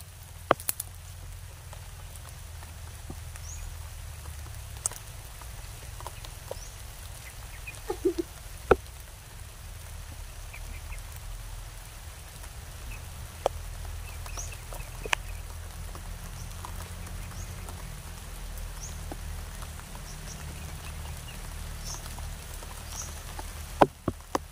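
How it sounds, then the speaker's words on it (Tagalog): Steady rain patters on surfaces outdoors at night, a continuous dense hiss with scattered drips and taps, holding a fairly even level throughout with no voices. "biglang lumakas yung ulan mga boss"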